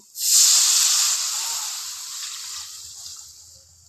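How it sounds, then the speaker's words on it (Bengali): Water poured into a hot pan with fish for egg curry, giving a loud steady sizzling hiss that starts abruptly, peaks early and slowly fades over a few seconds, with faint low clatter beneath. "মাছটার ভেতরে এবার আমি দিয়ে দিচ্ছি জল"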